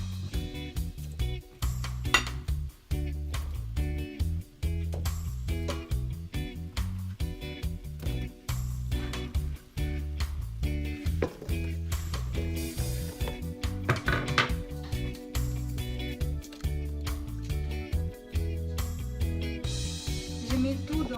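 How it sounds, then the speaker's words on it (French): Chopped potatoes, courgettes and leek tumble into a saucepan with spices, bringing a run of clinks, knocks and soft thuds against the metal pan, fairly close, with background music playing throughout. "je vais mettre tout dans ma casserole avec mes épices"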